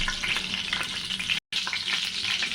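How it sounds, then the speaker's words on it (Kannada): Cinnamon and cloves fry in hot oil for a country-style chicken biryani masala, giving a steady, close, crackling sizzle with one brief dropout partway through. "ನಾನು ಎಣ್ಣೆ ಕಾಯಕ್ಕೆ ಇಟ್ಕೊಂಡಿದ್ದೀನಿ ಇವಾಗ ಚಕ್ಕೆ ಮತ್ತು ಲವಂಗ ಹಾಕ್ಕೊತೀನಿ"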